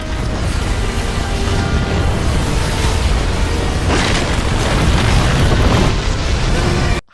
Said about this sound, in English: How absurdly huge was that explosion?